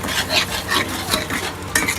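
A spoon scrapes and stirs salt, chili powder and a little water into a spice paste for prawn malai curry, with steady, close, rhythmic wet scraping strokes throughout.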